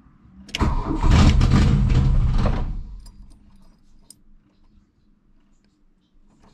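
A 1982 VW Rabbit engine with the cold start cable pulled cranks and catches in a loud burst of roughly two seconds, then drops away to near quiet with faint clicks and rattles.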